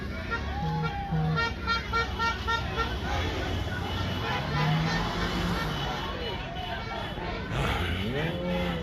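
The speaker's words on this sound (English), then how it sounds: "Hear those honks." Car horns honk at a protest, several short toots and longer blasts from passing vehicles against steady traffic noise, with people talking and shouting over them.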